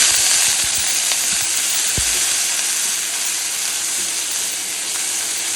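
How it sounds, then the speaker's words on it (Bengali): Potato pieces with nigella seeds frying in hot oil give a steady, close sizzle and hiss throughout, with a few soft knocks of a utensil against the pan. "আর একটু তেল দেবো আর কালো জিরে দিয়ে দেবো গোটা জিরে দিয়ে দেবো আলুটা দিয়ে"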